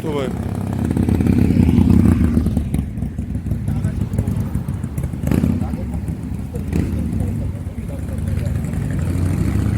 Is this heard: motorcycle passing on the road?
yes